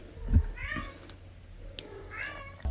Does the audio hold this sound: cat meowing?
yes